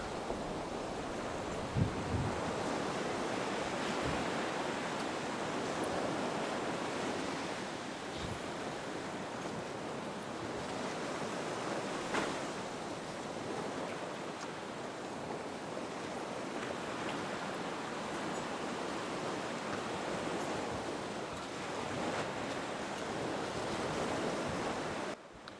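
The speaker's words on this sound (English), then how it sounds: "The waves are kind of small today." Small ocean waves wash steadily onto the shore at Cherry Grove Point in North Myrtle Beach, a continuous broad surf rush with light wind, no one speaking.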